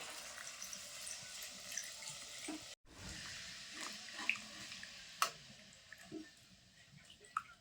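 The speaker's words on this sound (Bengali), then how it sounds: "এবার আমি পরিমাণ মতো ঝোলের জন্য জল দিয়ে দেবো" Water is poured into a pan of cooking chicken for chicken kosha, a steady close splashing rush with small drips and a brief break partway, with no talking.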